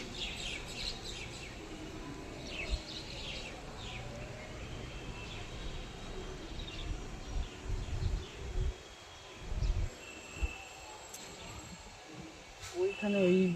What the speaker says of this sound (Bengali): দেখুন শালিক পাখির ডাকগুলো কি সুন্দর লাগে না?